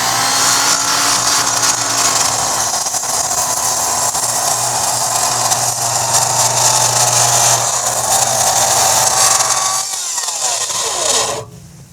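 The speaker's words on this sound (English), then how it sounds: "We'll start with the Skilsaw, the Sasquatch." A Skilsaw 'Sasquatch' circular saw cross-cuts with a loud, continuous, close whine and grinding for about ten seconds, then winds down and falls silent. No talking.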